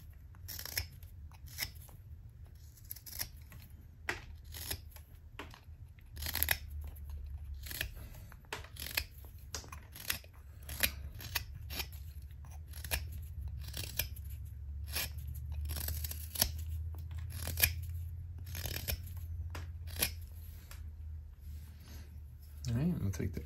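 A knife whittles the corners off a carved wooden pumpkin head, giving repeated short, dry scraping cuts in an irregular rhythm, close and fairly quiet under a low background hum.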